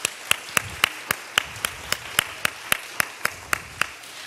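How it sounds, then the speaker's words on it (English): An audience at a school talent show claps in a fairly even rhythm of distinct, sharp hand claps, roughly four per second, close and clear with no talking over it. "let's go ahead and give them a round of applause before they even begin"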